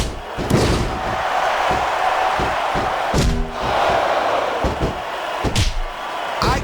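Crowd cheering in the WWE SmackDown vs Raw 2006 video game during a Torrie vs Booker T submission match, a continuous roar broken by repeated heavy slams and thuds.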